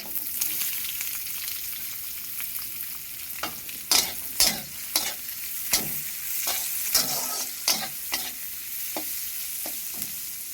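Chopped onions frying in a pan until browned, a steady close sizzle broken by repeated sharp scraping strokes of stirring, with no voices.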